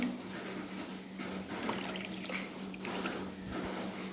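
Coconut milk is poured into a heavy uruli pan while making pumpkin halwa, a soft, steady liquid stream heard faintly and close, with no talking.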